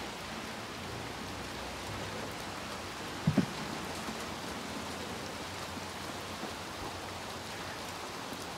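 Steady rain hisses down against the sides of buildings in the video game Little Nightmares 2, an even wash of patter with one brief faint knock midway and no voices.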